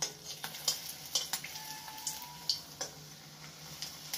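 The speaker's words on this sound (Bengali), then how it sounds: "তো আবারও একটা ভেজে নিচ্ছি আমি এমনি করে" Vegetables fry in a small pan with very little oil, giving a soft, steady sizzle broken by light scrapes and taps of a spatula turning the pieces.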